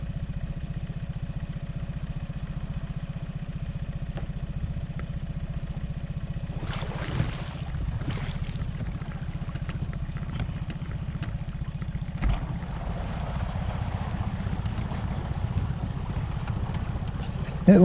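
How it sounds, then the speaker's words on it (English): A small boat's outboard motor warms up at idle off the Isle of Jura by Loch Tarbert, a steady low rumble running throughout, with faint water and wind noise over it. "It only took minutes to warm up the outboard and be on my way"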